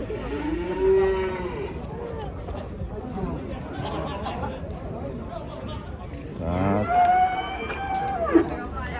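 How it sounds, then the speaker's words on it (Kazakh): Cattle, bulls and cows, at a livestock market in Kyzylorda give several loud, drawn-out moos, one early and a louder cluster near the end, under constant chatter and crowd babble. "Әдемі ірі бұқа екен."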